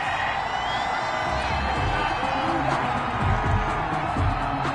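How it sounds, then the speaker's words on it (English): A home crowd in a Madden football video game stadium boos after a pass interference call, a dense sustained roar of many voices heard in the background beneath the game's broadcast audio. "Some boos coming down right now from this home crowd after that call"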